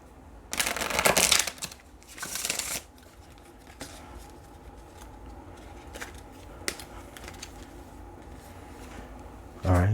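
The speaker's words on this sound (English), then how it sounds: "Let's get one more good shuffle." Deck of tarot cards being shuffled by hand, two quick riffling bursts up close, followed by quieter handling and soft taps on a table.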